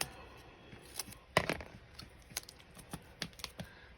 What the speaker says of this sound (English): this washi tape is getting old. So I'm just gonna trim it up